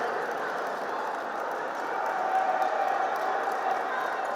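A high school basketball crowd at a state championship game roars steadily after a ferocious slam dunk, a broad sustained wash of cheering at moderate loudness with announcer speech over it.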